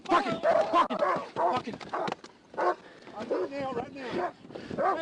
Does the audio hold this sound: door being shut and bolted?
no